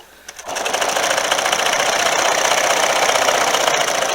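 A sewing machine starts up and runs steadily, its fast mechanical stitching rattle loud and close for several seconds.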